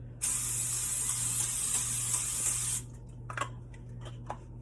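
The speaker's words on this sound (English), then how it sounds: "now I'm going to spray some oil on top, just a little bit." A steady aerosol hiss of cooking oil sprayed onto breaded jackfruit cutlets lasts a couple of seconds, then stops, followed by a few soft clicks and taps.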